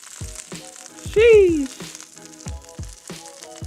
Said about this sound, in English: you're gonna flip it and let it sear for about 3 to 5 more minutes